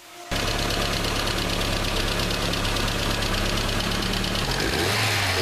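A Ford Escort engine starts and settles into a steady, loud, close idle to warm its oil, with a continuous rough hum and a slight change near the end.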